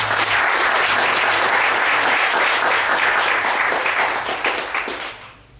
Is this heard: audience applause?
yes